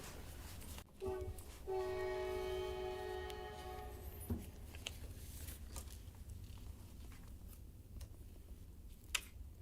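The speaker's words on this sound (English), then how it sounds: "while this train goes by" A train passes with a sustained, loud horn blast lasting a few seconds, over a steady low rumble of railcars, with faint clatter continuing after the horn stops.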